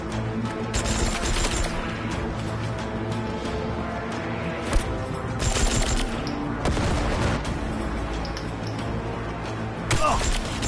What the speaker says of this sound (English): Oh, who's fucking shooting me?